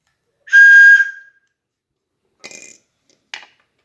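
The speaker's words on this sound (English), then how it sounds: "A whistle train." A toy whistle train gives one long, shrill whistle blast, then two brief toots after a pause, each loud and close against silence.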